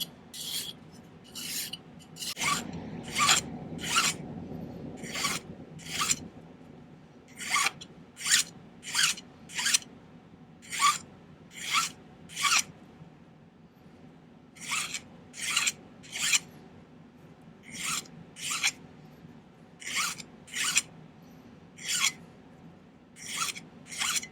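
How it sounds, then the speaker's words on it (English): A hand file rasps across a silver scrap ring in short, regular strokes, about two dozen crisp scraping bursts in an otherwise quiet room, close and clear. "take my file, make sure everything's all symmetrical"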